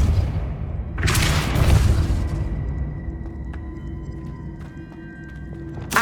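Depulso spell cast in Hogwarts Legacy, a heavy booming burst that swells and then fades into a ringing game ambience, with a sharp hit at the very end.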